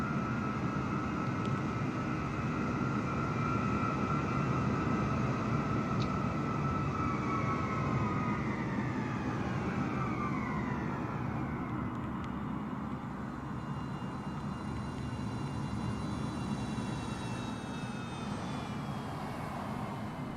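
Aircraft taxiing toward the end of a runway in Microsoft Flight Simulator, a steady engine roar with rising and falling whine tones, continuous and fairly close throughout, with no talk.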